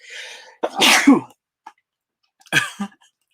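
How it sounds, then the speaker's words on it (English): A single close, sharp sneeze preceded by a brief sharp inhale, followed by a short pause and a quick vocal sound. "Excuse me, I got to sneeze."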